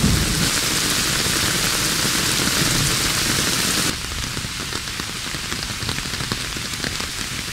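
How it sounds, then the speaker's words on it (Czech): Summer rain pours steadily onto leaves near a river, a loud dense hiss of drops that eases abruptly partway through into a lighter patter. "Letní déšť smívá prach na listech"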